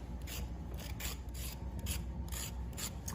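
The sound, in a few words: knife blade shaving the skin off a carrot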